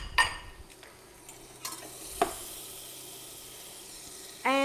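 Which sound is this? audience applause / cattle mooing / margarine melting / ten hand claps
margarine melting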